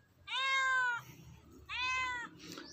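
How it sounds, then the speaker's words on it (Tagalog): A pet cat meows twice, close and clear, two drawn-out tonal calls separated by a short pause, with a quiet rustle after the second. "Ayan si Kirkir guys. Yung pusa namin."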